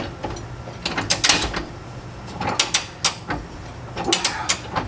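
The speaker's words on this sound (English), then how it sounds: "And they give you a nice little nylon locking nut. I'll just thread that on here." A nylon locking nut is threaded by hand onto a bolt on a Jeep Wrangler lower control arm skid: small, close metallic clicks and ratchety ticks come in short uneven clusters over a quiet background, with no talking.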